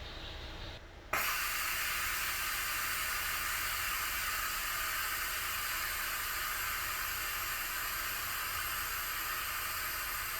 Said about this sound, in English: Steam release will begin.